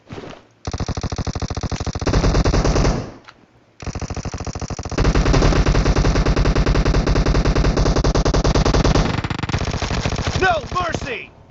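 Video-game gunfire from UZI and Vector submachine guns in PUBG team deathmatch: several long, rapid full-auto sprays, loud and close, separated by short gaps, with a little talking near the end.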